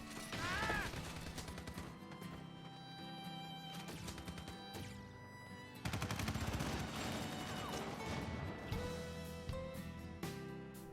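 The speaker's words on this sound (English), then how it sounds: "But the way they just gun Zack down is pretty brutal." Soldiers gun down Zack in the video game Crisis Core Final Fantasy VII Reunion, a dense sustained burst of rapid gunfire and mechanical clatter, loud and close, layered with dramatic game score and no talk.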